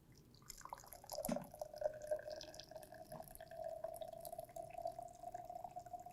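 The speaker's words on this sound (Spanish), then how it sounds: "Vertimos el agua caliente con mucho cuidado." Hot water pours carefully into a plastic container, a thin trickling stream with a few drips, faint and close, holding a steady tone for several seconds.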